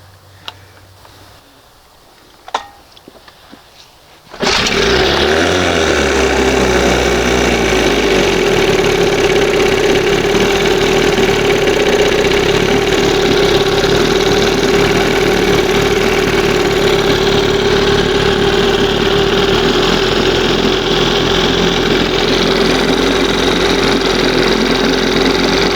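A 1971 Johnson 20hp outboard motor starts up after a few quiet clicks and then runs steadily and loudly at a fast idle, with a continuous ticking drone.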